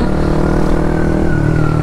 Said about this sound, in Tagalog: meron siyang backtone